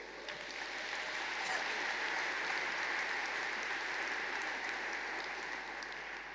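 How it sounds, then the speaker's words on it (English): Audience at the IHE Delft graduation ceremony in 2018 applauds steadily, a dense even wash of clapping from a large hall that holds at the same loudness for several seconds. "A round of applause, please."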